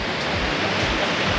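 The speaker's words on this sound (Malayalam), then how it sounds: "നല്ല വെള്ളച്ചാട്ടമാണ്" Steady, dense roar of a hidden forest waterfall at Naranathode near Calicut, loud and continuous with no voices over it.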